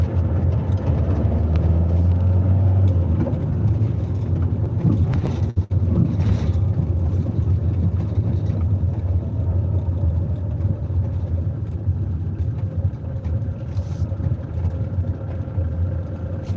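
A vehicle engine runs and revs in a loud, steady, close rumble that holds throughout with little change and no talk over it.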